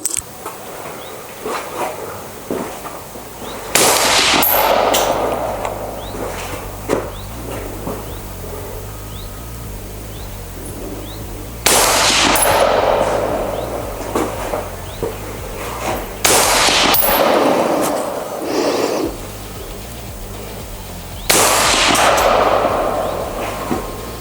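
Daniel Defense rifle firing 55 grain ammunition at an outdoor range, five loud sharp shots spaced several seconds apart, each with a ringing decay over a low steady hum.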